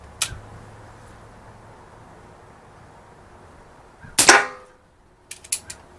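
A Diana Stormrider .177 PCP air rifle fires sharp, isolated cracks, one early and a louder one mid-way with a short ringing tail, followed by a few quicker clicks and taps of handling.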